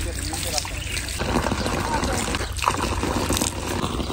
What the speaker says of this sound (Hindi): चलो धो, हाथ भी धो लो, मुंह भी धो लो।